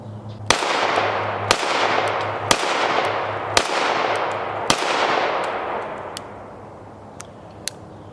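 Series of loud, sharp pistol shots from a 9mm steel Springfield Armory Prodigy 1911, about five evenly spaced reports with echoing decay outdoors, followed by fainter distant pops.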